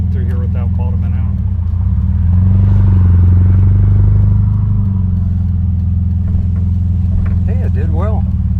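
A lowered 1963 VW Beetle convertible rolls through a dip with its air-cooled engine droning up close. The engine swells briefly in the middle as the car works through the dip, and voices are heard at the start and end.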